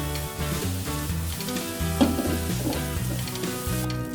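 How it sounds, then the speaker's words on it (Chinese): Chili bean paste and chili peppers sizzle and hiss as they are stir-fried in a wok for mapo tofu. The frying is steady and close, with a spatula clink midway, under loud background music. "翻炒均匀，炒到香气出来了，就放入辣椒，然后翻炒一下"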